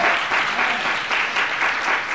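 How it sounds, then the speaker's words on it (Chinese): A church congregation claps during a Saturday worship service: steady, dense applause from a crowd, fairly loud and continuous for a couple of seconds with no talk over it. "用掌声献给耶稣。"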